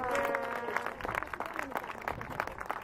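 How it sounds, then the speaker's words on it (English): An audience at the World Orienteering Championships opening in Scotland breaks into applause, with scattered clapping under lingering sustained tones from a speaker or music that fades as the clapping builds. "I think that needs a cheer."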